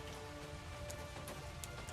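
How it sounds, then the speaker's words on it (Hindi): Light evening drizzle falls in a steady, soft patter with faint scattered droplet ticks, quiet and continuous, with no voices. "अगली शाम फिर बूंदाबांदी शुरू हुई।"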